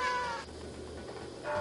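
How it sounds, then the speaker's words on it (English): Video game cat meowing in Stray, a loud drawn-out meow at the start and another at the end, with quieter game ambience between. "all the cat sound effects going on"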